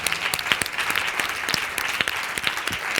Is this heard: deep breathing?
no